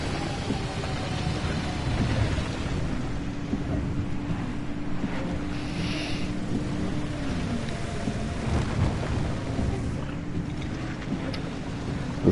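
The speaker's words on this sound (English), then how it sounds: "The storm is encroaching." A thunderstorm in the video game Pacific Drive rumbles in a low continuous roar with steady rain-like wash and faint distant thunder, no voices present.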